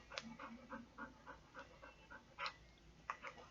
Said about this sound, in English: My goofy dog Munch.